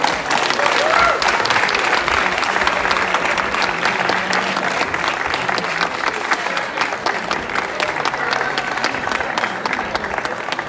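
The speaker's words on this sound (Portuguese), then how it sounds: "Mais um aplauso para eles, por favor." Sustained audience applause fills a folklore festival in Relva, Ponta Delgada, on São Miguel in the Azores, a dense steady clapping that holds loud and unbroken throughout with no talk over it.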